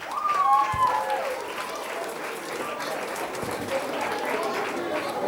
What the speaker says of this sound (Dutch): Geef hem een geweldig applaus.